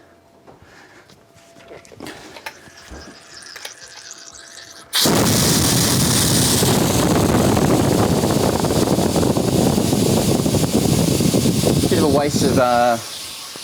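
Carbon dioxide rushes out of a Cornelius keg's faulty pressure relief valve in a loud, steady hiss lasting about eight seconds, close to the microphone, with a brief spoken comment beforehand over quieter background noise.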